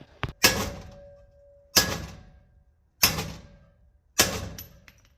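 A hammer pounds a u-joint on a GMC 2500 HD truck, four sharp, heavy metallic strikes about a second apart, each ringing briefly before fading, close and loud with no talk.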